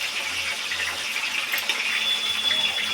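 Water running and trickling out as cut vegetable pieces are squeezed by hand in a kitchen, a steady close splashing gush with no talk.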